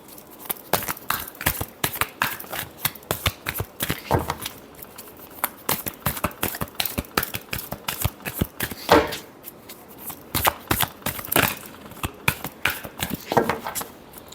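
Tarot cards are shuffled by hand, a dense run of crisp riffling snaps and flicks in uneven bursts, close and fairly loud with brief pauses between handfuls.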